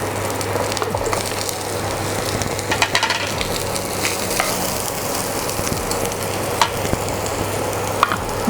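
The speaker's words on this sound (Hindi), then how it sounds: "थोड़ा सा मिर्ची को फ्राई कर लें।" Green chilies and water chestnuts (singhare) fry in a pan, a steady crackling sizzle with occasional stirring clicks and scrapes running through the whole stretch, no voices.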